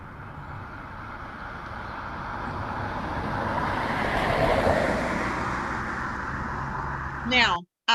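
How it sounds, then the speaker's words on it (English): A car approaches on a street, its broadband road roar swelling steadily to a peak mid-way and then easing, heard alone for street-crossing practice before a brief voice at the very end. "So I want you to listen to this car"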